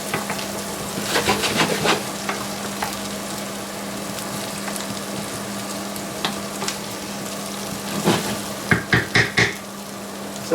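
Onions fry in a pan ahead of sausages in gravy, a steady loud sizzle with a low hum beneath, punctuated by scraping stirs and a quick run of knocking utensil taps near the end.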